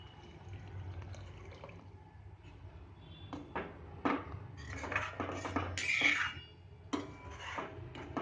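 Chickpeas and tomato water are poured into a pan for a Punjabi chole curry, a soft liquid splash and trickle with a few light pot clinks, rising to a fuller pour near the end.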